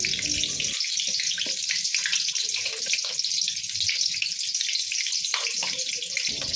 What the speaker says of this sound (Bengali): এইভাবে একে একে সমস্ত বেগুনগুলো ভেজে নিতে হবে মিডিয়াম টু হাই ফ্লেমে।